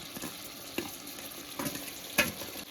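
Shrimp tipped into Malabar spinach frying in a pan and stirred through, with a soft steady sizzle punctuated by a few brief scraping stir strokes, close and fairly quiet.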